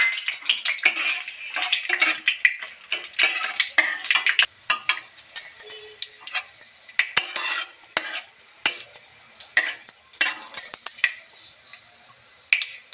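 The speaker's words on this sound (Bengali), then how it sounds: "এটা আমি গরম মশলা, জিরে আর তেজপাতা ফোড়ন দিলাম।" Garam masala, cumin and bay leaf tempering in hot oil in a pan, with frequent sharp clinks and scrapes of a utensil stirring over a soft, steady sizzle.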